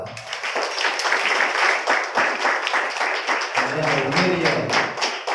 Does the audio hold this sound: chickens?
no